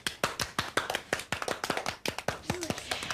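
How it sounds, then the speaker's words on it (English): Children clap for a classmate in a small nursery or early-years group, an uneven patter of small hands close by that lasts a few seconds and stays fairly soft. "Let's all give Stuart a clap."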